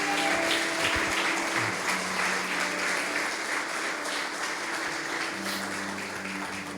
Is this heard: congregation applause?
yes